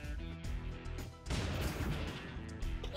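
A grenade blast in the video game Bionic Dues: a loud, dense burst of explosive noise after a brief lead-in, sustained crackling rumble through the rest, close and dominant.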